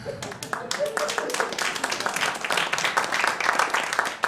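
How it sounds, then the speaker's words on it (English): Comedy club audience clapping for a stand-up comedian, a lively burst of many hands mixed with cheers and voices, rising in density and staying fairly close and loud. "I hold for applause."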